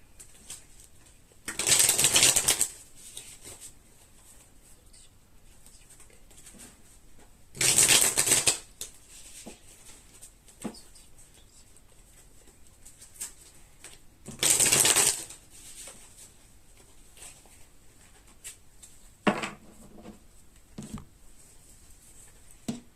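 Tarot cards are shuffled in three distinct bursts of crisp riffling, each lasting about a second, separated by quiet stretches with small card handling sounds and a fainter fourth burst near the end.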